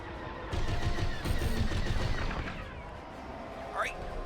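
Starfighter gunfire in Star Wars Rogue Squadron, a quick rattling burst of repeated shots up front followed by booming blasts and a rising whine, with a voice talking over the action.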